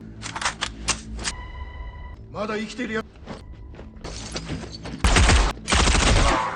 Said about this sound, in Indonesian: Dia mengambil senjata dan menembak.